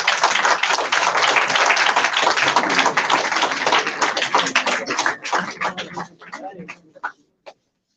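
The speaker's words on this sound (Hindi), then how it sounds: "तालियों के साथ चीफ जस्टिस बालाकृष्णन ने विदा कर दीजिए" Audience at an indoor national seminar applauding in a dense, sustained burst that thins into a few scattered claps before stopping.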